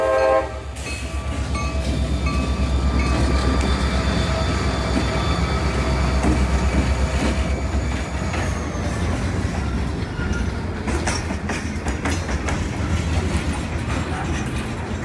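A CSX freight train led by an SD40-2 locomotive and hauling loaded cars rolls past on the Brooksville Subdivision, with a loud, steady rumble, a short horn blast at the start, and wheel clatter and squeal that fade slightly toward the end.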